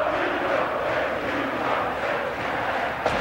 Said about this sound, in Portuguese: o torcedor do Botafogo que aos 7 minutos do segundo tempo já grita é campeão, canta o hino